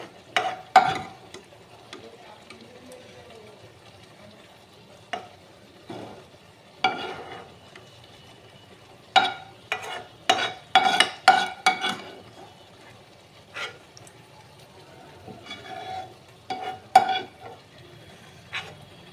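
Michuri frying in a pan with a little garlic tempering, stirred with a utensil that scrapes and clinks against the pan in scattered bursts over a soft, steady sizzle.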